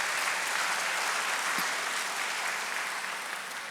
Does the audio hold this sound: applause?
yes